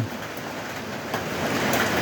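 Steady rain falling outdoors in a rural setting, a dense, even hiss of drops with no voices, swelling slightly louder toward the end of the short stretch.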